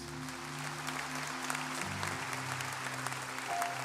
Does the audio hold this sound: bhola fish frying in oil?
no